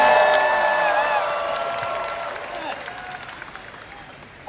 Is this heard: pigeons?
no